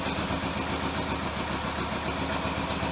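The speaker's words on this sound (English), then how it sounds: "Idling, dead cold, about half stroke. 800, 900 RPM." A cold Kawasaki GPX750R motorcycle engine idles steadily at low revs, about 800-900 RPM on half choke, a continuous even rumble with a soft rhythmic pulse and no rattles standing out.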